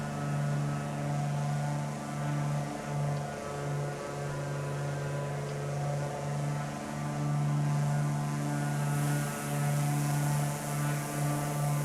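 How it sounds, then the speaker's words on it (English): Mooney Ovation propeller engine in the MSFS 2024 flight simulator, droning steadily and evenly for the whole stretch with no voices, heard from a quieter rear viewpoint. "the engine sounds different depending on your view"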